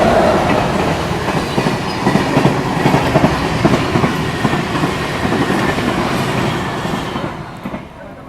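Shatabdi Express crossing at speed on a 130 section, a loud sustained rush of wheels and rattling carriages with clickety-clack, roaring close by before tailing off at the end.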